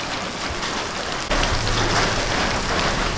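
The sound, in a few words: heavy rain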